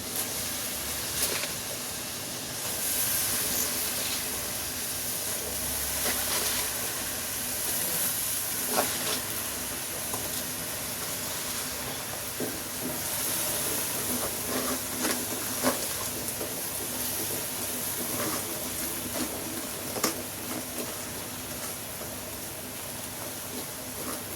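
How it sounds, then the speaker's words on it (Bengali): Taro greens dropped into hot spiced oil in a home kitchen sizzle and hiss steadily, a continuous moderate frying crackle with small pops, no talking. "মশলাটারও তেল উঠে গেছে এখন আমি শাকটাকে আস্তে আস্তে এর মধ্যে দিয়ে দিই"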